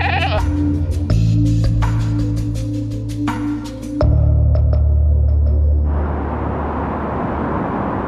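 Goats bleating in a series of loud, close, wavering calls, several overlapping in quick succession, then giving way to a rushing background noise.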